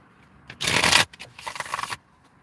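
Two quick bursts of oracle cards riffling and flicking together, close by, the first louder and denser than the second, in a quiet room.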